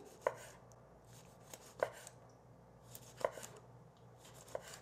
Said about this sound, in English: Gonna slice our lemon.